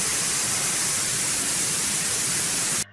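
Corona discharge around a high-voltage conductor gives a steady, loud hissing buzz that holds evenly for nearly three seconds, then cuts off abruptly.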